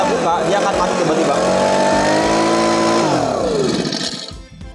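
A Firman FBV70 petrol blower vacuum runs loud and close with a steady, high-revving engine drone that dips in pitch near the end, as if bogging down or stopping.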